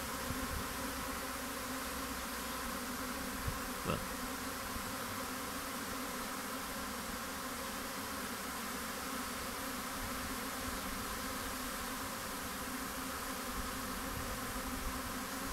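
A honeybee swarm fans at a hive box, making a dense, even, continuous buzz that stays steady and close throughout with no speech.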